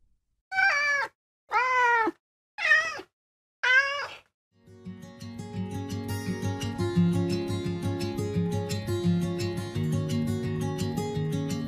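A cat meows four times in short, separate cries, then a soft layered music bed begins and carries on steadily.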